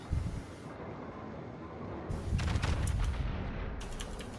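Naval guns fire at a Yamato battleship in the World of Warships game, coming as heavy, rumbling bursts of gunfire with a low boom that swells and lingers over a steady background roar.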